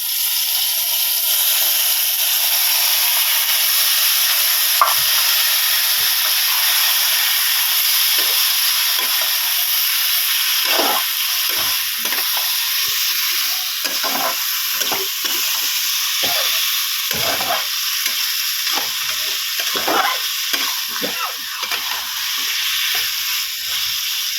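Saag greens, dropped into a pan over spices, sizzle and fry steadily in a continuous loud hiss with small crackles and pops, close by, no talk.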